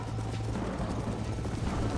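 Horse hooves in the Red Dead Redemption video game, a continuous rapid clip-clop of galloping over a steady low rumble, moderately loud and without talk.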